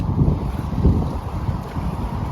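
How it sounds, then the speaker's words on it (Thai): Sea waves wash onto the beach at Laem Mae Phim in Rayong, a steady low rumbling surf mixed with wind buffeting the microphone, with no talking. "เสียงคลื่น"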